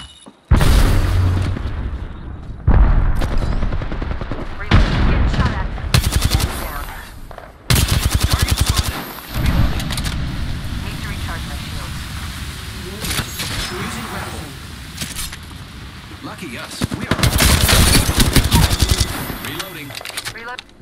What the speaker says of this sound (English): I am taking fire, friends. I need shields. Grenade, watch out.